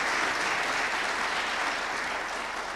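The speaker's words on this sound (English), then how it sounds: "I think we should give these guys a great round of applause." An audience gives a sustained round of applause at an athletes' event, dense steady clapping filling the whole stretch at an even loudness, with no talk over it.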